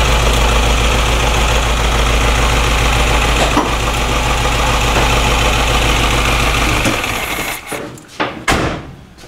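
A Subaru EA71 engine fitted with an electronic distributor idles loud and close in a steady, even chug, then is switched off and shudders to a stop, followed by a few clunks.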